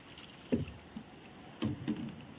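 A rowboat glides on the backwaters at Palolem, Goa, with a few soft, close oar splashes and paddle strokes spaced irregularly over quiet water ambience.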